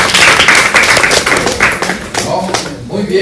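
A group bursts into steady clapping applause, loud and close, lasting a few seconds with voices mixed in underneath.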